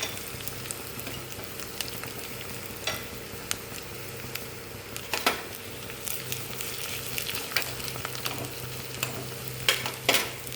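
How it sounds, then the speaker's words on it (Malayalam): Grated coconut is stirred and fried with mustard seeds and onion in a pan for pineapple pachadi, a constant close sizzle marked by sharp scraping stirs and a few crackles, no speech. "ഇനി തേങ്ങ ചേർത്ത് കൊടുക്കുന്നുണ്ട്."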